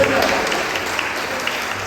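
Church congregation gives a round of applause to the Lord, a steady patter of many hands clapping at close range, with a voice underneath.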